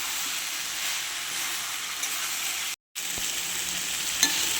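Soybean curry with tomato hisses steadily while being stir-fried, with light spatula scrapes against the pan and a brief full dropout partway through before the sizzle resumes.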